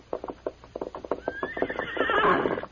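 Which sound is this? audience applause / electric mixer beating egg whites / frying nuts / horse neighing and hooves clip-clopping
horse neighing and hooves clip-clopping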